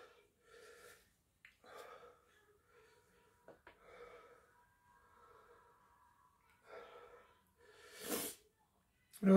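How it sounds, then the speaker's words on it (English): After a spicy nuts challenge, a person breathes in a labored way, with scattered gasps, snorts and heavy breaths spread across quiet pauses and ending in a louder sharp exhale. "labour breathing kicking in"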